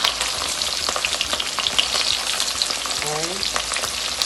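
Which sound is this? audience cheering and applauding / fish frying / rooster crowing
fish frying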